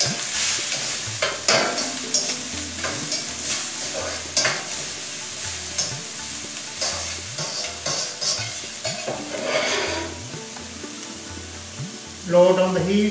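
Onion and ginger frying in a pan, a steady sizzle broken by repeated scraping stirs, with a louder clatter of utensils near the end.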